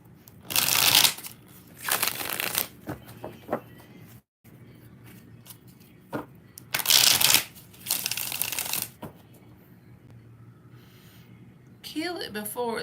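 Tarot cards being shuffled in several quick riffling bursts, close and crisp, with quieter handling and breathing between them and a brief tinkling at the end.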